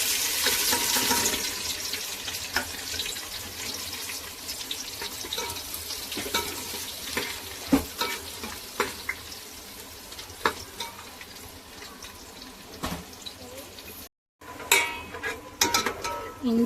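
Ginger, garlic and green chili sautéing in hot oil for a vegetable pulao, with steady sizzling crackle, occasional stirring clatter and a brief dropout near the end.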